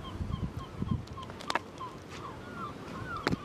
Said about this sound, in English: Two tourists from Germany put their GoPro on a wall and take a picture of a seagull